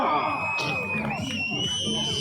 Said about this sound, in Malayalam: കാണികളെ ഒന്ന് കൈയടിച്ച്